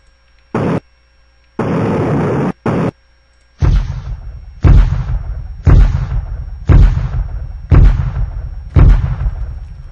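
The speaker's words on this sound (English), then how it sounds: "So versus bullet laser sound, obviously we want laser sound." Laser shots in a Unity space shooter with bots: a series of sharp, loud blasts, three short bursts followed by six evenly spaced booming shots with decaying tails, alone without talk.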